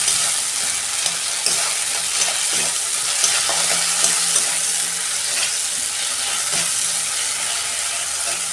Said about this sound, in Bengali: আদা রসুনের কাঁচা গন্ধটা চলে যতক্ষণ না যায় আমি মশলাটা কষতে নেব।